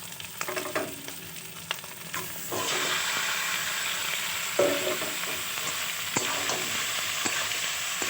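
Pasta hits hot oil in a pan and sets off a loud steady sizzle, with scraping stirs and spoon knocks on the pan and no talking.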